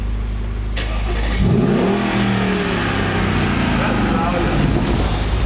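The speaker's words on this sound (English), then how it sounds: "Now, let me start my car up." A BMW M6 or Mercedes CLS63 AMG sports car fires up by push button: a sharp engine catch and flare after a low steady hum, then a loud, rough idle settling in, close by with brief talk over it.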